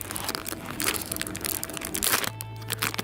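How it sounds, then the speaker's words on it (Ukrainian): A zip-lock bag on a South Korean military ration pack is pulled open, giving close crinkling plastic rustles and a crackling tear of the seal, with a low hum underneath. "Відкривається, е, як і зіп-пакетик любий."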